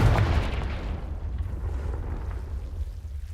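Confringo spell explosion in the video game Hogwarts Legacy, a single deep booming blast that hits at once and then rumbles away into a fading low tail, alone without speech.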